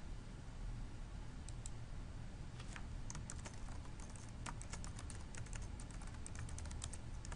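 Computer keyboard typing a short, simple password for a new Active Directory user, with a steady run of quick, irregular key clicks over a constant background hiss.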